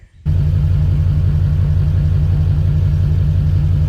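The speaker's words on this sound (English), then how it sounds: "Well, I can pull the truck away." A Ford F350 truck engine running as it pulls away from a tilt-deck trailer, a loud steady low rumble that kicks in abruptly after a brief quiet start and holds evenly.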